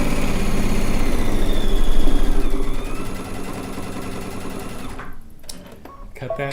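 Sewing machine stitching rag quilt blocks together, running as a loud, rapid, steady mechanical whir for about five seconds, then slowing and stopping with a few quieter clicks.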